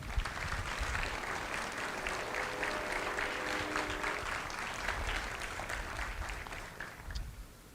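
An audience at a Marine Corps recruit graduation at MCRD San Diego claps warmly and continuously, the sustained applause of a large crowd filling the space before it tapers off at the end.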